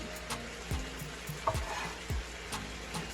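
A large fresh yellow onion lands in a hot pan and sizzles softly, with a few clunks and scrapes of stirring breaking through a steady low frying hiss.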